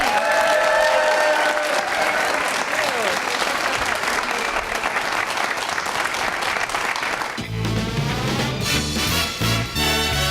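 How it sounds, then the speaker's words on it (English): A studio audience claps loudly and continuously at a live show, dense applause filling the space before music comes in near the end. "Round of applause."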